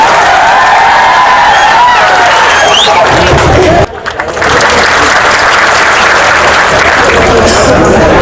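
A large crowd at a Bharat Adivasi Party political rally applauds loudly in a thick, continuous roar of clapping and cheering, broken by a brief dip midway before surging back.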